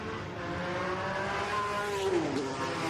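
A 512M sports racing car engine at Goodwood, a steady distant drone with a rising then falling pitch as the car sweeps past, heard over constant crowd and ambient noise.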